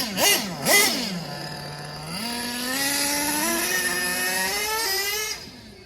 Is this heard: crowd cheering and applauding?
no